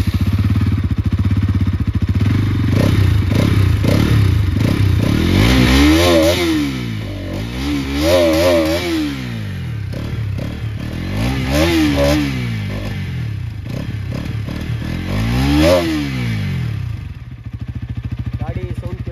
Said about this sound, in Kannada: ಗಾಡಿ ಆನ್ ಮಾಡಿ ತೋರಿಸ್ತೀನಿ ಬನ್ನಿ. ಗಾಡಿ ಸೌಂಡ್ ಕೇಳಿ ಅನಿಸುತ್ತೆ